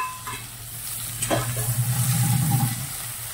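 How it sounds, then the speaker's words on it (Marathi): Chopped green chili and filling for a quick fenugreek (methi) vegetable dish sauté in a pan: close, steady sizzling with a sharp spatula scrape, then a rising, bubbling fry. "मस्त असा परतत आहे, त्यातच आपल्याला हिरवी मिरची कट केलेली टाकायची आहे"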